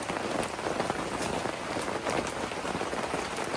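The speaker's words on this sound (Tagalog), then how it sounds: "Medyo malakas ang rain." Fairly heavy rain falls in a steady, dense patter on surfaces nearby, an unbroken wash of drops with no voices over it.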